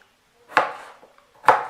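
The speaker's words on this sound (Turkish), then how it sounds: "Şöyle doğrayacağım arkadaşlar." Two sharp knife chops through leeks against a cutting board, about a second apart, close and distinct with quiet gaps between.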